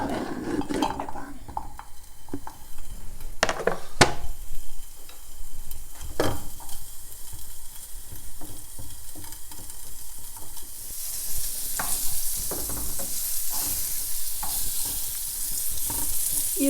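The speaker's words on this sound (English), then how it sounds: "When the pan is hot, we put our guanciale in the pan." Guanciale fries in a hot pan with a continuous sizzle, broken by clinks and scrapes of a utensil stirring against the pan, close up; the hissing swells louder toward the end.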